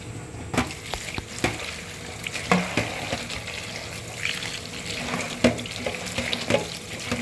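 Cut bottle gourd pieces washed under a running tap in a sink: a steady close stream of water with scattered knocks and splashes as the pieces are handled, no voices.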